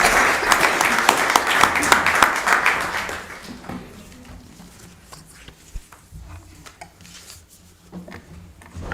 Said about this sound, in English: Another round of applause for our Lewiston Leads recipients.